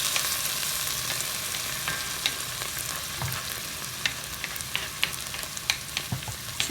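Fresh diced tomatoes hit hot oil with garlic in a pan, raising a steady, close hiss of frying with scattered small pops and crackles throughout and no voices.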